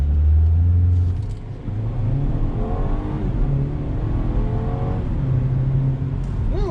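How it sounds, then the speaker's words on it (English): A 2020 BMW 228i Gran Coupe with a four-cylinder engine launches hard under launch control, a loud close engine roar that climbs through several rising gear pulls, with short dips at each shift. "Ooh, it takes off like a beast for a 4-cylinder to have launch control."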